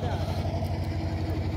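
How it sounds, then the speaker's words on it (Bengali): A double-cylinder motorboat carrying people to market on the Matla river in the Sundarbans chugs with a steady, low, pulsing engine throb nearby, with voices faintly present. "এরা হাটে যাচ্ছে এই নৌকাটা, এটা ডবল সিলিন্ডারের বোট আছে।"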